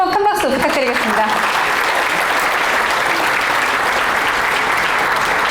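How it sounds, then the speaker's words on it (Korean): Audience applause at a book concert event, a loud, steady wash of clapping filling the room, with a brief voice at the very start before the clapping takes over. "다시 한번 큰 박수 부탁드리겠습니다"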